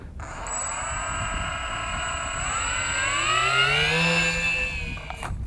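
Twin electric motors of a Lidl RC glider whine steadily at half throttle during a gentle hand launch in the wind, a close, sustained buzzing drone whose pitch shifts and rises slightly as it leaves the hand.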